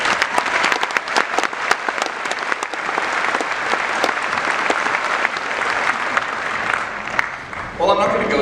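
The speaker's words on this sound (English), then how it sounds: "I think you all deserve a round of applause." A graduation audience at a university commencement breaks into sustained, dense applause, many hands clapping together at steady volume before it tapers off as a voice resumes speaking at the end.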